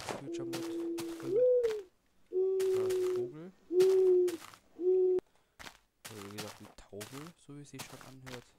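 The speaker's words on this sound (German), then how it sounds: "Ja, Taube, wir wissen, dass du da bist." Pigeon cooing in Minecraft with the Creature Mod, a series of hollow, tonal hoots in repeated bursts with short gaps, fairly loud and close, mixed with other game noises.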